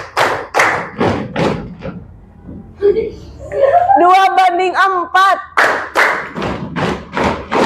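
Sixth-grade classroom at an Indonesian primary school clapping the 'tepuk mantap' rhythm, a series of sharp hand claps in quick bursts, mixed with children's voices, chuckles and a sung, chanted phrase.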